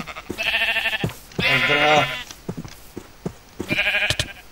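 Sheep in Minecraft bleat several times in short, close, loud game-sound bursts, with a brief spoken word between them.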